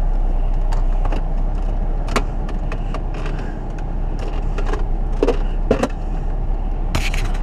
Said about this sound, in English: I'll just reverse up a touch because I'm sitting on a big rock.